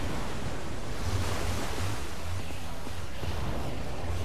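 Water gushes out in Minecraft Story Mode after a lever is pulled, a steady roaring rush like surf that holds at an even, fairly loud level throughout.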